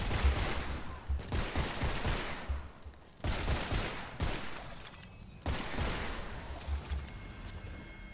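Rapid hip-fire from the Duelist gun in the dark fantasy shooter Witchfire, loud sustained volleys of shots in three long bursts separated by short pauses, close and dominant with no voices.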